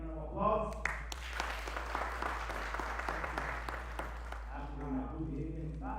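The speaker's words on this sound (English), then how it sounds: "A round of applause." Audience applause at a community event on men's mental health, scattered clapping rising and falling under a voice speaking over a loudspeaker, with a low steady hum beneath.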